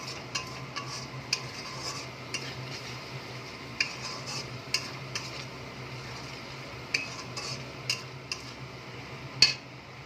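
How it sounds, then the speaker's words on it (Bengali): Spice paste for a Bengali prawn malai curry fries gently in a pan, a soft steady hiss under repeated sharp clinks and taps of a spatula against the metal. "মশলাটাকে একটু ভালো করে কষিয়ে নেব"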